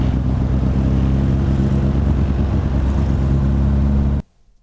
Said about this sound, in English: Old beetle car. This is where we get in kind of the discomfort of this old truck.